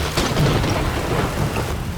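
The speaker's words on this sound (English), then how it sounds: "The rain won't let us explore." Thunder rumbles over steady heavy rain for the whole stretch, a dense continuous wash of noise with low rolling swells and no voices.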